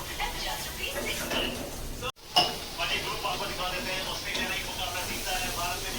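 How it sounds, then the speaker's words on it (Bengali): Minced meat for keema tarka sautéing in a pan gives a steady, close sizzle with stirring scrapes and a brief clatter midway, while a person talks over it. "কিমাটা মোটামুটি কষে আসছে"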